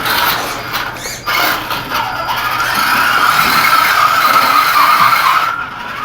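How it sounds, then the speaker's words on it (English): WLToys 10428 B RC car wheels spinning hard as it fails to climb a steep 45-degree slope, a steady loud high whine with some scrabbling. "Even with more wheel speed, it struggles."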